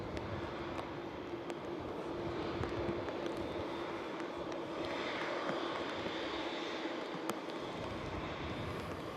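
An airliner in Chinese silk ribbon livery departs Manchester Airport for Shanghai, a steady distant jet roar that holds evenly throughout, fairly faint and with no talking.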